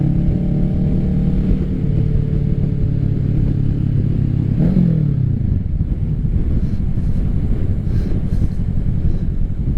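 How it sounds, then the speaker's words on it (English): A 2024 Kawasaki Ninja 650 with a new M4 aftermarket exhaust, its engine droning loud and close with a raspy rumble, then dipping in pitch as the throttle eases mid-ride, wind noise throughout. "Are you guys hearing this exhaust?"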